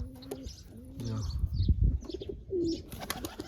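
A young wild-type pigeon flaps its wings in short bursts while being handled, the flutters close and mixed with soft coos and chirps.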